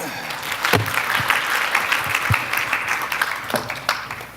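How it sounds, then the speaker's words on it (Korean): An audience claps in welcome for a Hyundai Department Store Group Handsome IT team manager at a corporate presentation, moderately loud continuous applause with a few sharper individual claps standing out. "박수와 함께 부탁드리겠습니다."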